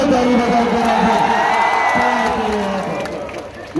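Crowd at an outdoor political rally in Bihar Sharif cheering and clapping loudly and continuously, a dense roar of applause with whoops that swells and then eases slightly toward the end.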